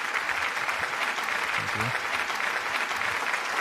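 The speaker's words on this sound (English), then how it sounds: "And I think an applause is in place for them with this strong SAP background skills." Audience applause for guests at a café-style tech talk, a steady, fairly quiet patter of clapping from a modest crowd, with a brief spoken word over it.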